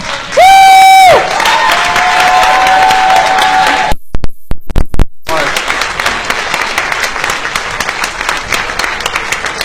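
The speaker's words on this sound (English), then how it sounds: "give him a big round of applause" A crowd at a Friday the 13th horror convention panel bursts into applause and cheering, a dense wash of clapping that fades briefly, then resumes steadily.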